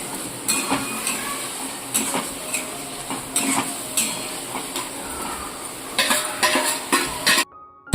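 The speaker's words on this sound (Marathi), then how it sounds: "तर हे आपण मटण ह्याच्यामध्ये टाकून घेऊया तर हे आपल्याला असं सुक्क मटण बनवायचं आहे" A spatula scrapes and clinks against a pan as mutton is stirred into roasted masala, with repeated sharp metallic strikes over a constant low sizzle, fairly close and loud, ending in a brief cutoff.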